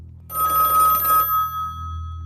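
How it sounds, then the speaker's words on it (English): A telephone rings indoors in a house, a single clear bell-like burst lasting about a second, then a sustained tone trailing off over a low hum; no voices. "it takes her a moment to realize the phone is ringing"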